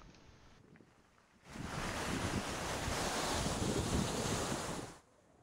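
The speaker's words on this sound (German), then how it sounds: "Der kleine Wasserfall." A small mountain waterfall beside the Adamello road above Saviore: rushing white water swells in suddenly after a quiet start, roars steadily and close for a few seconds, then cuts off.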